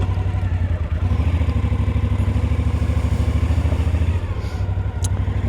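Suzuki V-Strom motorcycle cruising on a California highway, a loud steady engine drone with wind rush from the rider's position, holding an even pitch with a brief dip near the end.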